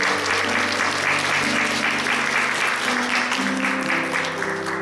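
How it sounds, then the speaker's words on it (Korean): Church congregation at a Sunday service claps steadily and warmly to welcome a new family, a continuous wash of applause from many hands with a faint sustained tone underneath. "한번 일어나실 때 박수 환영해 주실까요?"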